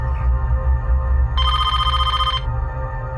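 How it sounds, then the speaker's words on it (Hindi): A telephone bell rings once in a burst of about a second inside a home, clear and fairly close, over a low steady hum, with no talk during the ring. "शालिनी, जरा देखना किसका फोन है।"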